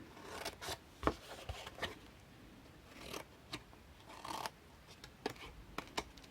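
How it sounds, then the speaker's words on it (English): Short, crisp snips of scissors trimming the paper corners of a 6 x 6 Christmas mini album, a dozen or so quiet close cuts in irregular bursts with light paper rustling between them. "So I'm going to take and trim up my corners here."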